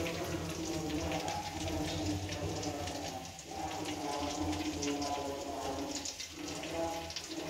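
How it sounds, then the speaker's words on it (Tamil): Running tap water splashes steadily over a leaf being washed for country chicken biryani, a continuous close hiss of flowing water with soft handling noises and no talk. "ஃபர்ஸ்ட் வந்து இலைய நல்லா கழுவி வச்சுக்கலாமா."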